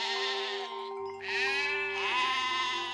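Sheep on Crete bleating in a herd, several overlapping wavering cries close by, one after another with a steady low drone underneath, no talking.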